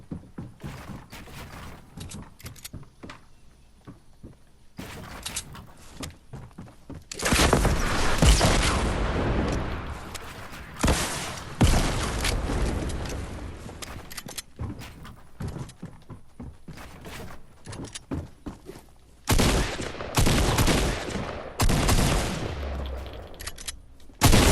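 Fortnite gunfire crackles in repeated loud bursts and rapid volleys, some long sustained stretches mixed with short sharp shots and thuds, no voices over it.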